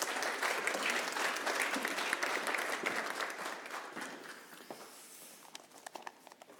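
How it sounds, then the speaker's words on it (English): An audience applauds at a conference as a speaker is invited to the floor, with dense, steady clapping that slowly thins and fades toward the end. "Giving a big applause."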